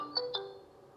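Two quick, bright electronic chimes ring in close succession, then a soft tone lingers and fades; small and clean, a ringtone from a Wiwu SW-01 Pro smartwatch.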